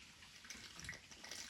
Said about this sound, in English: So I'm using a little funnel, and I'm going to fill it up until I can see the water level on both of these tubes